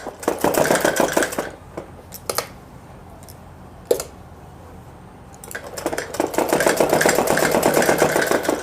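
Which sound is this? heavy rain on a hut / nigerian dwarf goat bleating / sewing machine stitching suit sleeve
sewing machine stitching suit sleeve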